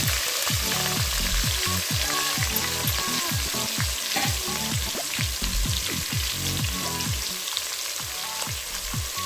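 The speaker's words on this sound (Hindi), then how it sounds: "अब इसमें 2 दरमियानी साइज में प्याज शामिल कर रही हूँ, सेम उसी तेल में जो बाकी बच गए थे।" Two medium onions frying in leftover oil after cauliflower for manchurian, a steady close sizzle with dense crackling and repeated low scraping knocks of stirring throughout, no voices.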